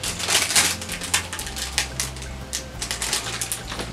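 Close, crisp crinkling and snipping as scissors cut through stiff plastic packaging in a quick series of irregular cuts.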